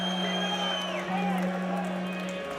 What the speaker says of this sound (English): who will take in that applause from the Irish faithful